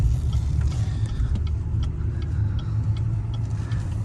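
Cabin rumble comes from a big, heavy long-wheelbase pickup truck on a bumpy road: a loud, continuous low roar with faint rattles and knocks over it, and no talking.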